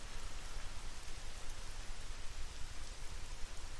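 Steady rain from the game Dragon Quest XI S, a dense, even hiss of falling drops that runs unbroken through the whole stretch with no voices over it.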